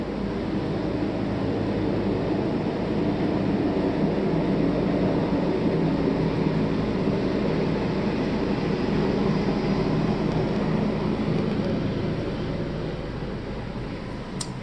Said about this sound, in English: Probably just a helicopter landing, you know, it's a big hospital.